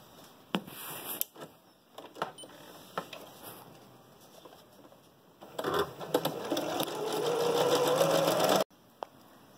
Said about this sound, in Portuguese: vamos passar uma costurinha aqui na borda para fechar essa costura aqui